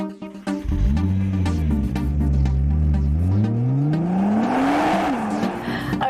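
A 2010 Nissan GT-R R35 with its 3.8-liter twin-turbo V6 revs up loud and close, the engine note climbing steadily in pitch with a brief dip before rising again, heard alone without talk.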